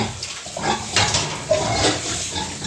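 A sow in heat grunting and snuffling continuously at close range, low rough grunts with a few louder bursts, no talk over it.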